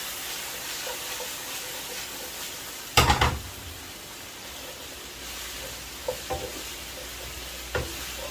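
Beef chilli tossed and stirred in a hot pan, a steady soft sizzle and hiss with a sharp scraping clatter early on and a few lighter spoon knocks later, no voices.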